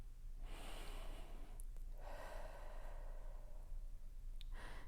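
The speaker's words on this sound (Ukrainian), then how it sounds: "Зробіть вдих та видих." A person takes slow, audible breaths, drawing in and then letting out air in two or three long cycles against a quiet background.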